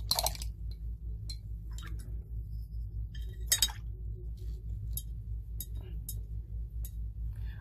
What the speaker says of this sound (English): let me rinse my brush